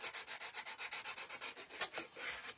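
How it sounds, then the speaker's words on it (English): Sandpaper rubs back and forth over a wooden Uncle Sam door hanger from a craft kit, a close, steady series of quick scratchy strokes with no talking. "We'll let him do the heavy sanding."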